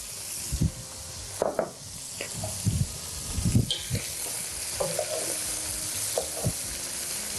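Chunks of onion and carrot sautéing in oil alongside chicken and lamb, a close sizzle broken by repeated scraping and stirring clatters from a utensil against the pot.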